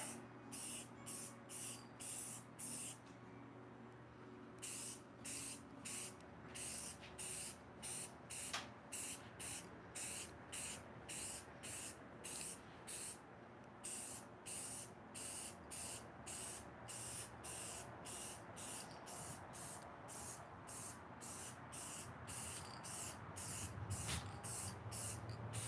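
Spray paint hisses in rapid, rhythmic short bursts as a heavy outdoor coating goes onto a small squirrel house. The bursts are steady and close, with a brief pause early on, over a constant low background hum.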